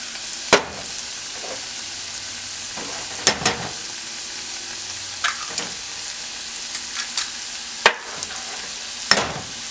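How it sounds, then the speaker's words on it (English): Eggs cracked one at a time for a keto omelette: sharp, isolated taps and cracks spaced a few seconds apart, set against a steady soft hiss from the pan. "Now I'm going to break the eggs."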